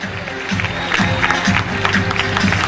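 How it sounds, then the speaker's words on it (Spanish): Audience applause at a flying trapeze show in Colombia, a steady wash of clapping from a crowd, with cheers and voices mixed in throughout. "Vamos a despedirlos con un aplauso más bonito"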